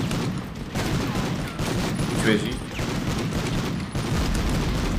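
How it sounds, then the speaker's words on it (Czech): Gunfire in the World War II shooter game Medal of Honor, dense sustained bursts of shots and explosions filling the mix, loud and continuous, with a voice speaking briefly over it. "tady na mě někdo ještě z boku střílí"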